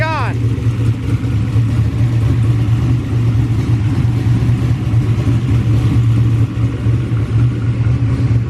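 A junkyard LS V8 fitted with a turbo runs loud and close with a steady, heavy low rumble throughout, and a brief rising rev blip at the very start.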